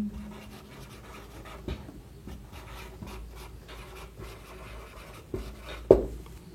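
Pen scratching steadily across paper while maths working is written out, a continuous soft rasp with a few sharper strokes and one louder tap near the end, close and fairly quiet with no talking.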